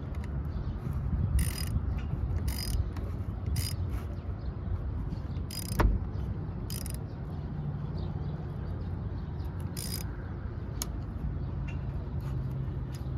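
Bolts being tightened on a Honda CBR600 F2 carburetor with small hand tools: quiet, irregular ratcheting clicks and metallic taps, plus one sharper knock, close up against a faint background.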